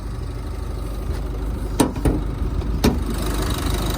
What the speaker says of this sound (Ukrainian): Ось так працює мотор. Мотор працює ідеально